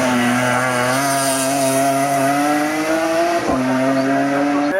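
A Renault Clio Trophy race car, number 103, at a Graulhet hill climb, its engine droning loud and close at high revs with a sustained steady pitch and a brief dip in the middle.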